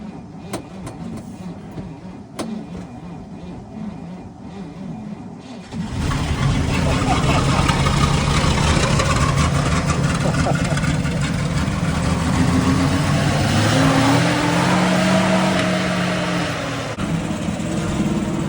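A ZIŁ truck engine turns over and catches, then settles into a loud, heavy, rumbling run that holds steady close by. A voice is faintly audible before the start.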